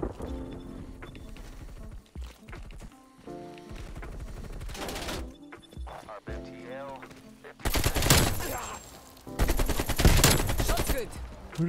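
Gunfire in the video game Call of Duty Cold War, with several bursts of rapid shots, the loudest volleys near the end, over game music and effects.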